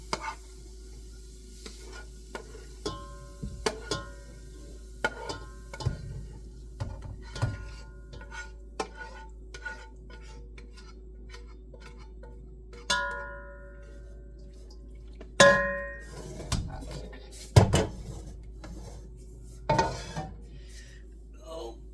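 Cooked hamburger mixture is spooned into a metal soup pot: scattered clinks and knocks of a utensil on metal, with soft wet stirring sounds between, some taps louder and sharper than others.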